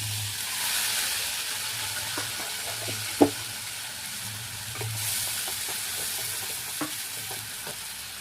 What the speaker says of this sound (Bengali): এবার আমি পেঁয়াজ আর টমেটো বাটা দিয়ে দিচ্ছি।